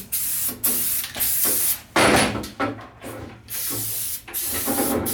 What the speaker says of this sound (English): So now first I'm going to spray it up with a little Teflon spray